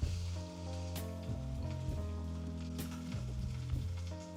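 Dried peppers sizzle and fry in a pan alongside tofu for a Japanese breakfast, a steady close crackle with low sustained tones running underneath.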